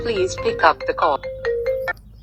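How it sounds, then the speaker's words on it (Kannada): A custom name ringtone plays from a phone, a tonal electronic melody with a spoken name voiced over it, close and clear, heard as one short continuous phrase. "ಒಂದು ಪ್ಲೇ ಮಾಡಿ ನೋಡ್ತಿದ್ದೀನಿ ನೋಡಿ. ಅದು ರಿಂಗ್ ಟೋನ್ ಬ್ಯಾಕ್ಗ್ರೌಂಡ್ ಇರುತ್ತೆ"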